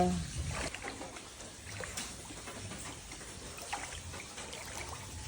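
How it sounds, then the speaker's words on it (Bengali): Floodwater trickles and gathers around a house, a faint, uneven dribbling with occasional small splashes, quiet and partly under a voice talking. "শব্দ শুনতে পাচ্ছেন যে কত পরিমাণের পানি জমছে"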